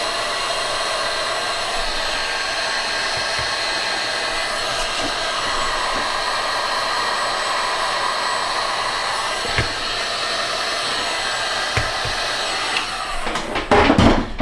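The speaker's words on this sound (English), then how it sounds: "Take a heat gun." A heat gun blows steadily on an 18650 4S 2200mAh lithium battery pack for an RC plane, a loud constant hot-air roar that continues without pause and is joined near the end by a few clattering handling noises.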